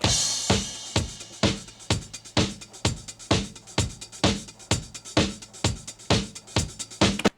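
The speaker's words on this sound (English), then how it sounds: "this is a drum break that I'm going to use" A looped drum break sampled from a record, with punchy kicks and crisp snares in a steady, driving rhythm, loud and up front with no voices.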